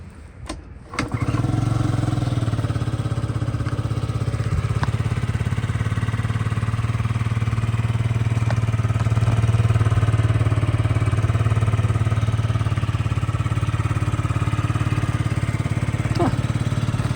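A small Yamaha Jog SA36 fuel-injected scooter engine catches and then idles steadily, a close, continuous buzzing putter that holds an even level throughout.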